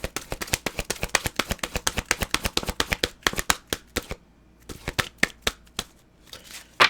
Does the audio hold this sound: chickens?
no